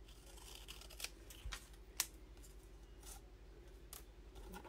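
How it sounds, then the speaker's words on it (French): A few crisp snips of scissors cutting paper, spaced about a second apart, quiet and close, with no one talking. "Là, j'apporte mes ciseaux."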